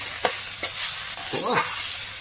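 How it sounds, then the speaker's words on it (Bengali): Masala and ginger-garlic paste stir-fry in a pan, a close sizzle punctuated by a few quick scrapes and clinks of a spatula against the metal. "দেখতে পাচ্ছেন ভালো করে পুরো পুরো জমিয়ে কষানো হচ্ছে, জমিয়ে"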